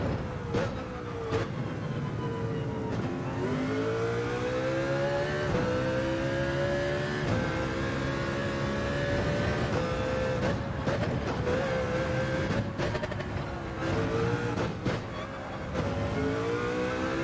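A Mercedes CLK-LM Gr.2 race car in Gran Turismo 7 at Deep Forest Raceway, its engine whining steadily through repeated upshifts and downshifts over a full stretch, loud and continuous, with brief bumps and tire noise.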